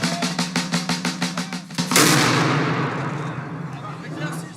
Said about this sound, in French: le canon tonne avant les premiers pas